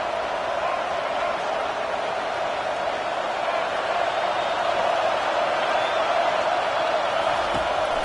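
Stadium crowd cheering on third and long in an American college football video game, a dense steady roar of many voices filling the background throughout.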